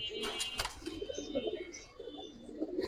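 Cobra silver pigeons cooing, soft low throaty coos repeating in short rhythmic bursts, fairly close and quiet, with a few brief sharp rustles or clicks near the start.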